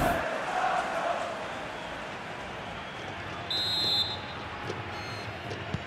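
Final whistle blows in a FIFA video game match between Valladolid and Getafe in LaLiga, with a steady home crowd roar swelling into an ovation and a short whistle tone partway through.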